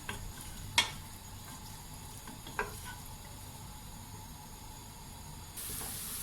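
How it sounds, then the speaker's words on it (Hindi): Onion frying in a pot until light golden, a faint steady sizzle with a couple of sharp utensil clinks and a brief rise in hiss near the end. "प्याज डाला और प्याज को ब्राउन नहीं करना है, हल्का सा गोल्डन।"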